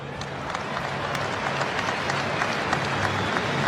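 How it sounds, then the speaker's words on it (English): A stadium crowd at the 2017 NRL rugby league Grand Final between Melbourne Storm and North Queensland Cowboys gives a steady, dense round of applause that holds at an even level throughout. "let's have a nice warm round of applause"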